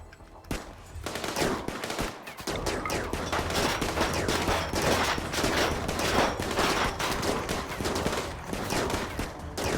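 Rapid automatic gunfire in the RimWorld video game, dense bursts of shots rattling on almost without pause, loud and sustained, with no talking.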